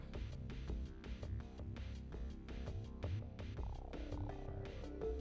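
A cat purring close by in a steady, rhythmic rumble of repeated pulses that carries on evenly and quietly throughout.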